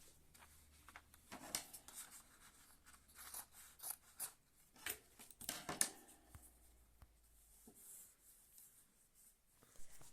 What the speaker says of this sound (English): let's trim these seam allowances